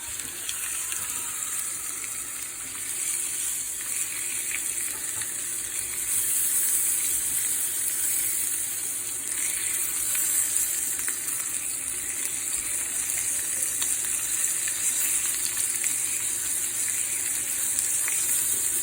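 Tomahawk steak, cooked sous vide beforehand, searing on a grill, giving a steady loud hiss and sizzle that holds without a break, with no talk over it.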